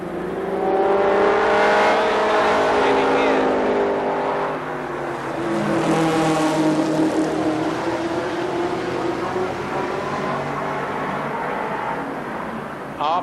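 Race cars roar around Columbus Motor Speedway during a trophy dash, a loud continuous engine drone with rising and falling pitch as cars accelerate and sweep past, filling the whole stretch without letup.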